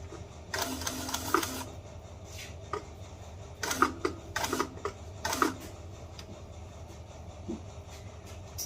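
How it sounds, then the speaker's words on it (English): Sewing machine stitching two layers of leather around the edges of a sneaker upper, heard in several short whirring bursts of rapid mechanical chatter separated by pauses with faint clicks and handling noise. "you're making sure that you stitch both layers of leather all the way around"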